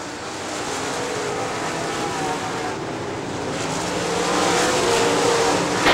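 Late model stock cars racing at Crystal Motor Speedway, a continuous broad engine roar that swells louder toward the end as the pack passes, heard from a distance with no talk over it.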